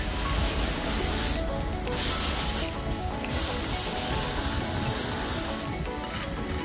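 A soft wash sprayer hisses out a surfactant mix in a continuous, close, rushing spray, with a few brief dips where the flow or the aim shifts.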